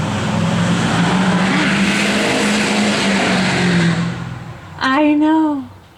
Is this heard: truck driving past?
yes